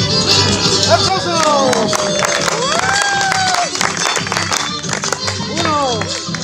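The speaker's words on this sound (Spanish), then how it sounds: "¡Aplauso!" An outdoor crowd at a rural folk festival day claps and cheers after a performance, with shouting voices and music mixed into the lively, uneven applause.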